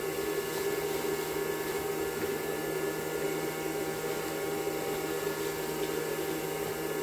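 Steady, even airflow roar from a hair blow dryer forced through a shop vac hose into a homemade fresh-air welding helmet, continuous and fairly loud with a faint hum, no talking.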